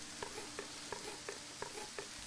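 Fish frying in a pan in a survival video game, a faint steady sizzle with soft rhythmic stirring or shuffling taps repeating about every third of a second.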